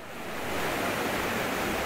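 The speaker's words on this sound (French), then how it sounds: "une belle petite cascade aussi, là, qui vient des hauteurs boueuses" A small waterfall spills down from muddy heights outdoors on an overcast day, giving a steady, close, broadband rush of falling water that holds constant without any voices.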